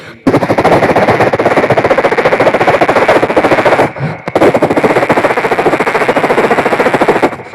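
A long, rapid barrage of firecrackers at a school anniversary event crackles loudly and continuously, with a brief pause near the middle before the bursts resume.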